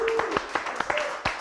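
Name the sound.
audience applause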